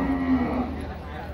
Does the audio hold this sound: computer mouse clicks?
no